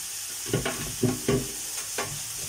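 Onions sautéing with no oil in a hot pan, a low background hiss broken by several distinct stirring scrapes and shuffles at irregular intervals, close by.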